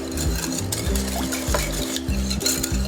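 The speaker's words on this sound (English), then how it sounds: "whisk again, break up the eggs, and incorporate into the wet mixture" A whisk clinks rhythmically against a bowl as eggs are beaten into a wet blueberry muffin mixture, a quick, steady rattle heard close up and without any talk.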